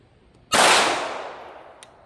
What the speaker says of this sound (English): shoot that gun until it reaches slide lock